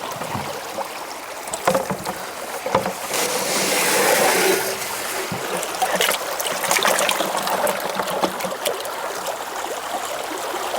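Gravel and water swirled in a gold pan at a glacial creek make a continuous close sloshing and washing, swelling louder partway through, with scattered gritty rattles of stones.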